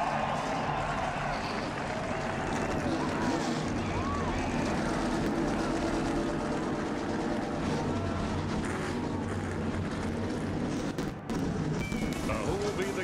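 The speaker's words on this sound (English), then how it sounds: "Gentlemen, start your engine." A loud, continuous roar of many NASCAR Sprint Cup engines starting and running together before the 2010 Dover race, with a crowd rumbling beneath them.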